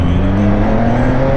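A motorcycle engine revving hard and close, a loud sustained droning whine that holds steady for the whole moment.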